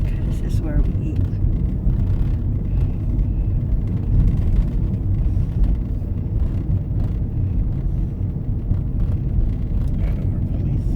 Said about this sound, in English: I'm just gonna drive straight to the end and come back.